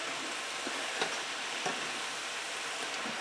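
Cabbage fries with bacon in a pan, giving a steady, dense sizzle with a few faint scrapes and pops and no talking.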